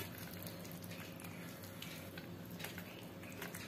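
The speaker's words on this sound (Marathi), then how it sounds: "गरम मसाला टाकल्यानंतर किचन किंग मसाला टाकूया आणि 2 मिनिट परतून घेऊया" Garam masala and Kitchen King masala sautéing in a pan for a restaurant-style baingan masala, a steady low, faint sizzle running unbroken with no voices.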